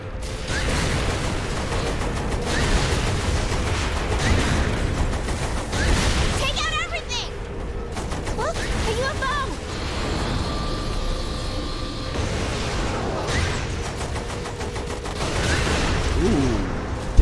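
Rapid machine gun fire from a tank in the video game Saints Row IV, sustained bursts mixed with explosions and engine rumble throughout, with a person talking over parts of the action.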